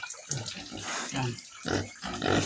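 A pig, an old sow, grunts and snorts in a rapid series of close, loud, rough bursts over a couple of seconds.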